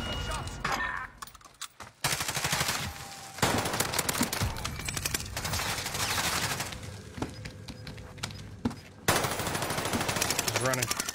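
Call of Duty gameplay full of rapid automatic gunfire and bursts of shots, loud and close, broken by brief pauses while players talk over the action.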